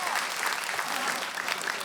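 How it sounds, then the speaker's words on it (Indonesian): A stand-up comedy audience bursts into steady, dense applause that holds at an even level for a couple of seconds before easing slightly. "tepuk tangan."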